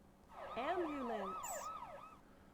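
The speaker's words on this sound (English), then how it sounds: "Ambulance." A wailing ambulance siren from the video game Cyber Grannies, with rising and falling electronic tones that overlap and sweep steadily at a moderate, even level.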